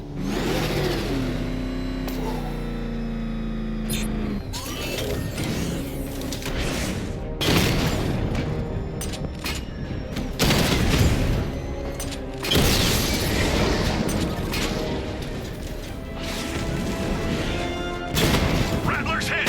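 Cobra tanks under attack in the Batman Arkham Knight video game, with revving engines, heavy smashing impacts and booming hits arriving in bursts over game dialogue.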